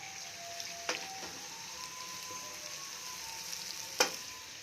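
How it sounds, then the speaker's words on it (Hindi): Homemade ghee bubbling from butter in a pan, a quiet continuous sizzle and crackle with two sharp taps of a utensil on the pan. "ये इसको अब बॉयल आना शुरू हो गया"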